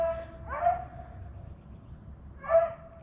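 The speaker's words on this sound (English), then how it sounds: "Shut the damn dog up." A dog barks twice, a few seconds apart, fairly distant and faint, over a steady background hum.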